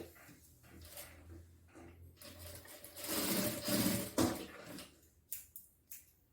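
A sewing machine stitching the two side edges of a large backpack panel, running faint and steady at first, then louder in a burst in the middle, followed by a few soft knocks and handling clicks.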